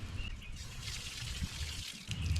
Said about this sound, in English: you're going to rinse it out with cold water and low pressure